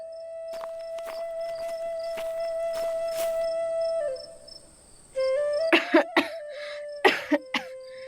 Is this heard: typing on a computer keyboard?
no